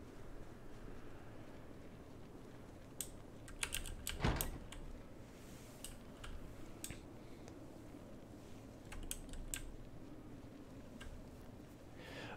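Typing on a mechanical computer keyboard, a run of crisp clicking keystrokes in uneven bursts with a louder clustered flurry partway through, close up and alone without talk.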